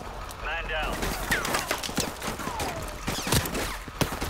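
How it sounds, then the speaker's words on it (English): Gunfire rattles in Modern Warfare Remastered, scattered shots and short bursts mixed with in-game effects and a voice talking over the action. "I'm being shot from everywhere."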